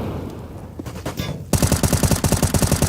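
Loud, rapid Galil rifle bursts from a Counter-Strike match on Nuke at a pro tournament, starting abruptly midway after quieter background noise and continuing as a dense rattling string of shots.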